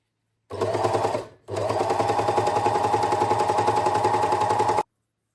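Overlock sewing machine stitching with pink and green threads, a loud steady high-speed motor whir that runs, cuts out briefly near the start, then resumes continuously before stopping, with no voices.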